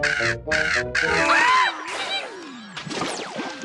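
A boy in a cartoon imitates bird calls with his voice: choppy squawks and caws, then sliding whistles and a swooping shriek, loud and close, with no other sound under them.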